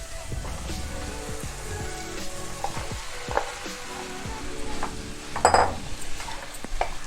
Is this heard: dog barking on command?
no